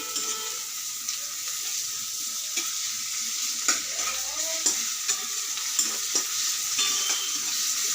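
Fried onions with ginger garlic paste sizzle steadily in a pan while a spoon stirs and scrapes against the metal every second or so, close and continuous, with no voices.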